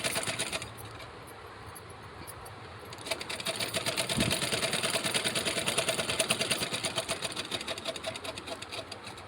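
A sewing machine stitches pleats into a kurti with a steady, fast mechanical whir that runs throughout and grows louder and busier after the first few seconds, with no talking.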